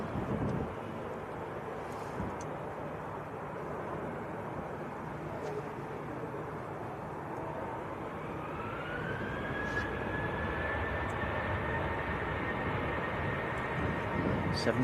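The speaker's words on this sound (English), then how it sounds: "next to go, Ryanair to Bratislava" A Polish-registered Ryanair Boeing 737-800 departs Manchester Airport, its jet engine roar building steadily and rising in pitch toward the end, broad and fairly loud over steady wind and outdoor ambience.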